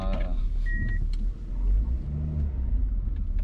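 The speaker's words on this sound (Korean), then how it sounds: "차량 운행해 보겠습니다." A Hyundai Veracruz 4WD with about 397,000 km on it drives slowly, giving a steady low engine rumble and road noise with a brief high whine, and no talking.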